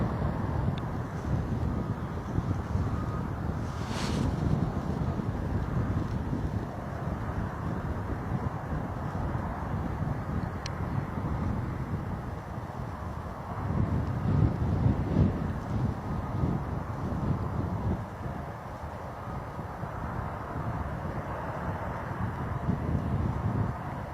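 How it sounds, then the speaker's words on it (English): Gusty crosswind at Bristol Airport roars across the microphone as steady, buffeting wind noise, swelling and easing in strong gusts throughout with no voices. "now the wind is pretty interesting"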